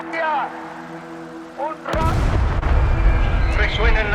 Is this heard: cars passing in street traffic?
no